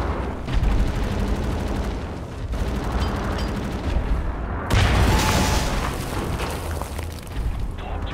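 Turret gunfire in the Wolfenstein: The New Order video game rattles in loud, dense bursts with heavy booms, a continuous barrage that swells and eases several times.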